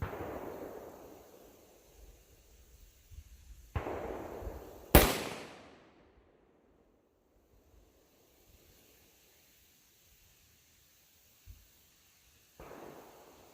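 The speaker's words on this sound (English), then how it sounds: "we are going to zero at 50 meters. This will be my first shot." A rifle fires while its scope is zeroed at 50 meters: one sharp, loud outdoor crack with a long decaying echo, set among quieter thumps and rumbles and a later distant pop.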